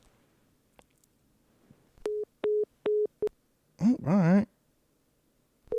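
Telephone line tones while placing a call: a series of short, steady beeps in an even rhythm, close and clear, followed by a brief spoken remark.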